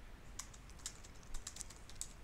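Someone types a git commit command on a computer keyboard, a quiet, close run of steady key clicks with a few sharper taps, alone and without talk.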